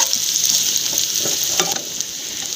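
Onions frying in a pan for a snack give off a continuous crackling sizzle, with a few louder pops and scrapes of stirring standing out partway through.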